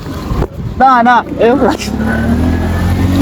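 A motor engine runs with a steady low rumble close by, while voices talk loudly over it at the start.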